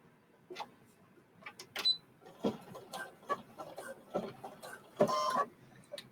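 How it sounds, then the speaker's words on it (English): A sewing machine stitches an edge closed on a small fabric pin cushion, running in short, uneven bursts with quiet gaps between them, close by. "now I'm just going to stitch and close this edge up"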